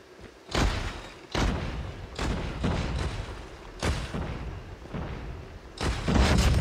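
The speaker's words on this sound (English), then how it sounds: "I blew myself up" Explosions and gunfire in a Call of Duty match, a series of sharp booming impacts at irregular intervals, loud and punchy, each followed by a short rumbling tail.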